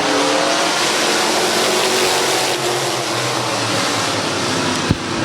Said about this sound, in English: 8-lap heat race number 2 for the Van Meter Auto Repair Modifieds is green.